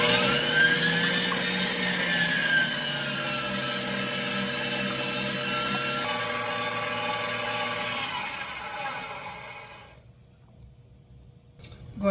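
An electric hand mixer whirs steadily at medium speed through cake batter of eggs, sugar and vegetable oil, a continuous close mechanical whine with slight pitch shifts before it cuts off near the end.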